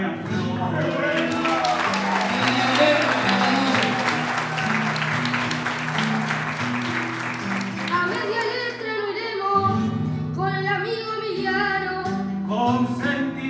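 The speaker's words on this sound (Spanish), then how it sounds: "Desde aquí hasta los Andes pido un aplauso grande para el" Applause for the young payador Brian Flores at a folk event, a broad wash of clapping carried under steady music with sustained low notes, loud and continuous throughout.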